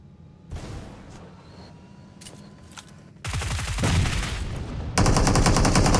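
Rapid gunfire and blasts from a PUBG Mobile firefight, starting as scattered distant shots and building into dense, loud automatic bursts that fill the last seconds.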